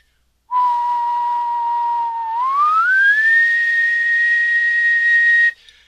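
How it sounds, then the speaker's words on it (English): A single person whistles one steady pure tone, holding a level pitch before gliding smoothly upward and sustaining the higher note, clear and close with no talk, then stopping abruptly. "if I made a pure tone like I whistled, you should be able to see a single frequency appear on this analyzer"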